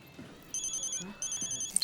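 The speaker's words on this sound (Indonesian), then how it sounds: "telepon" A telephone rings indoors in two bursts of bright, regular electronic trills, the second starting about two-thirds of a second after the first ends, over low room background.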